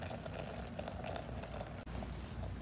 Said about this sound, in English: it's already boiling